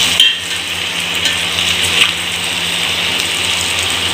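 Chicken fried rice stir-fried in a pan, a steady close sizzle and hiss with occasional scrapes and clinks of a utensil against the metal, and no talk.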